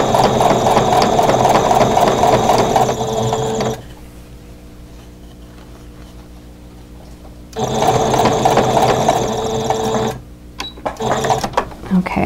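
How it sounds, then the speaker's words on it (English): A sewing machine stitches down a crochet hook wrap in two steady bursts of loud, even mechanical whirring. A quiet pause separates them, and a few short stops and starts come near the end. "So I want to check, and that's doing well, so just keep sewing it down."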